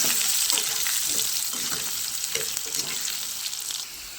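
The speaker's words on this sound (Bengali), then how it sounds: "আমি একটু আলুগুলো ভেজে নেব" Potatoes frying in hot oil in a home kitchen while paneer curry is being prepared, a steady, close, loud sizzle with faint stirring clicks throughout and no talking.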